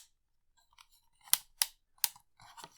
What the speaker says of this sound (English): if I can fold these down